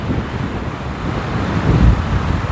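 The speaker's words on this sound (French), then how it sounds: "Mais là, c'est un petit peu agité, puis il y a beaucoup de vent." Steady strong wind buffeting the microphone on rocks by the Atlantic coast of Spain, with a low roar of choppy surf rolling beneath it and a slight surge toward the end.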